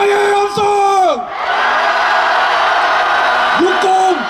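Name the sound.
crowd shouting at a political rally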